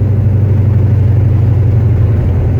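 Steady engine rumble from a car with a Holley carburetor, heard from inside while cruising smoothly, a constant low drone with no talk over it.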